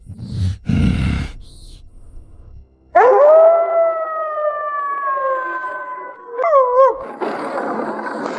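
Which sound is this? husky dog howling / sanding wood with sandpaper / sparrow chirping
husky dog howling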